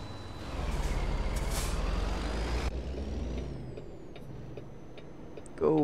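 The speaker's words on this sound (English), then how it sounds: "Go ahead and just set the parking brake, I guess. Otherwise, we will majorly lose air pressure." Air hissing out as the parking brake is set on a truck in American Truck Simulator, a loud burst lasting about two seconds over a low engine idle, followed by a sharp click.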